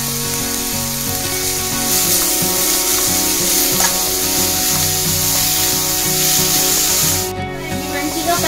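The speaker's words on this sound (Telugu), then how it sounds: "దీంట్లోకి బీట్రూట్ వేసేసుకొని మంచిగా ఫ్రై చేసుకోవాలి" Beetroot fries with turmeric in a pan, a steady loud sizzle layered with continuous scraping and rubbing of a utensil against the pan, briefly dipping near the end.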